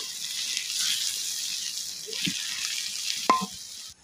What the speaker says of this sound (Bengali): এবার আমি অনবরত নাড়বো আর এই ডিম আলু সব কিছু ভালো করে ভেজে নিব।